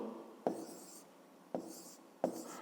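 A pen writes the number 836 by hand for a fifth-grade maths exercise, giving three short scratchy strokes spaced apart on paper, close and quiet in a still room.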